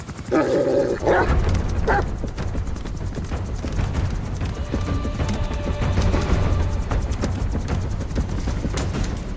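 A trained dog, D-Dog, barks in the stealth game Metal Gear Solid V, a few loud close barks at the start, then a steady rumble of hoofbeats and background game noise.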